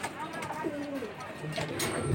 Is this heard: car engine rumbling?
no